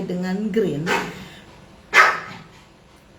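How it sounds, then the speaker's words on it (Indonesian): A dog barks sharply twice, once near the start and a louder bark at two seconds, close to the microphone, while a person keeps talking. "maaf ya anjing saya gonggong"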